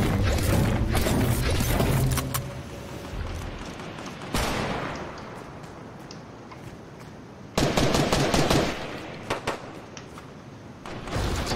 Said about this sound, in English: Can hear gunshots to the north.